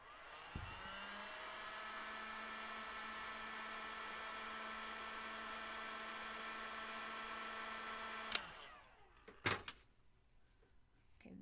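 A handheld heat tool or dryer drying paint on a small DIY craft basket whirs at a steady pitch for about eight seconds, then clicks off. A couple of handling knocks follow in the quiet.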